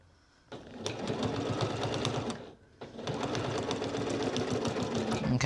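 A sewing machine stitches bias binding onto a bomber jacket in two loud, steady bursts of rapid needle hammering, split by a brief pause, close and alone.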